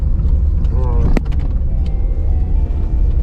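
A 1.5-litre sedan climbing a hill in low gear, a loud, steady low engine drone close inside the cabin, with someone talking over it throughout.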